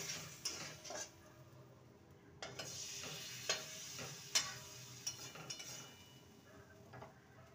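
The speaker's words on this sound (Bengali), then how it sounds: "ঝোলটা ফুটে উঠেছে, এবার বড়াগুলো দিয়ে দেবো মটরশুঁটির।" Gravy for a green pea and gram flour curry heating in a pan, a faint steady bubbling hiss with scattered soft clinks and taps of a spoon or pot, quiet and without voices.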